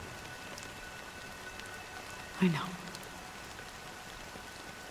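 Steady rain in the video game Honkai: Star Rail forms a soft, even hiss throughout, moderately faint, broken once by a short spoken phrase midway.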